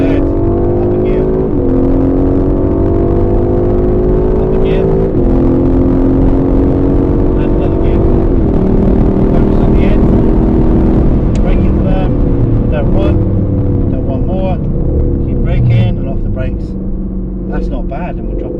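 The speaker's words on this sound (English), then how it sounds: "Turn it across now, back on the gas, but don't gas it hard yet. Squeeze, and go. Good. Up a gear." Aston Martin Vantage engine pulling hard on the Silverstone circuit, a loud continuous drone that climbs in pitch through gear changes, with a person talking over it throughout.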